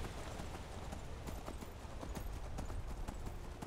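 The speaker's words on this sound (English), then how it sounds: "Sigurd, you are the best horse in the whole world." Horse hooves clip-clop steadily in Skyrim, a rapid even beat of hoofbeats under a dense, loud bed of ambient noise.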